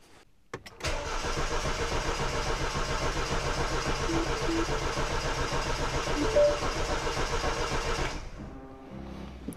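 A car engine cranks steadily on its starter with the fuel pump fuse removed so it cannot fire. The loud, continuous churning runs for about seven seconds and then stops.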